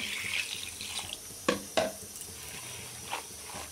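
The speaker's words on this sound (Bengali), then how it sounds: "এবার জলে ভিজিয়ে ভালো করে ধুয়ে নেব।" Jute leaves being rinsed by hand in water, with soft sloshing and splashing, a couple of sharper splashes near the middle, and a running tap in the background.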